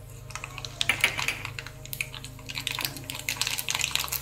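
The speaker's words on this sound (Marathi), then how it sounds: "तूप चांगलं गरम झालं, त्याच्यामध्ये मोहरी टाकूया 1/2 चमचा" Mustard seeds crackling and popping in hot ghee for a tadka, a quick irregular patter of small sharp pops throughout, fairly quiet.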